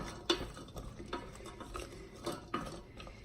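A spoon stirs cranberries simmering in orange juice in a pot, making soft, close scrapes and gentle bubbling with a couple of louder clinks against the pan; no one speaks.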